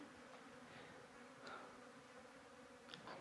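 Flies buzz steadily inside a damp, cool man-made cave left from old gold mining near Whroo, Victoria, Australia; a soft, continuous insect drone fills the space at low level, with a sharper sound right at the end.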